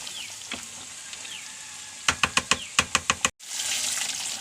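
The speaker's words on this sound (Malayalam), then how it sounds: "ഉള്ളി മൊരിഞ്ഞു" Onions fry in hot oil for tempering a beef and raw banana curry, giving a steady sizzle. A quick run of sharp utensil clacks follows, then a brief gap before the frying hiss comes back.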